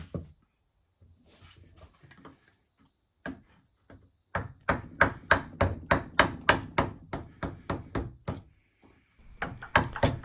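A large wooden mallet strikes a vise repeatedly in a rapid, steady series of hard knocks, with a few scattered taps before and after the run.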